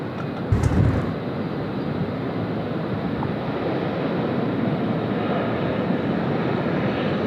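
A Finnair airliner takes off at Sydney Airport, a steady broad jet roar sustained throughout, with a brief louder burst near the start.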